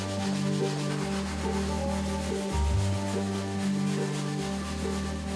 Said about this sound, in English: it's definitely taking some scrubbing